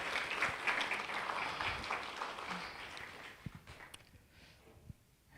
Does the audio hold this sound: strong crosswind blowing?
no